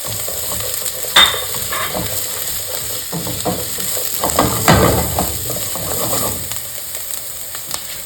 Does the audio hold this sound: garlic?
yes